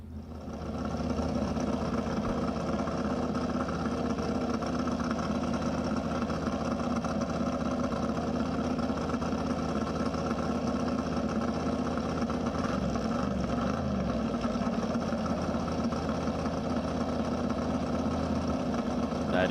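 A 1972 Ford 351 cubic inch V8 race car engine idles close by with a deep, throaty, continuous rumble, and no voices.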